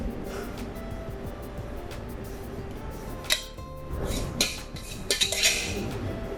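Eggs and Parmesan cheese stirred together in a bowl for a frittata, a spoon scraping and clinking against the side with a few sharper knocks near the end, close and without talk.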